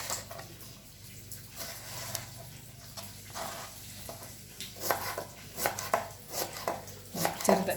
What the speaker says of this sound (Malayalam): വഴുതിനങ്ങ നമുക്ക് ചെറുതാക്കി അരിഞ്ഞെടുക്കാം.